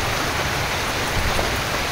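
Continuous broadband rush of rain by a river, loud and even, with no voices.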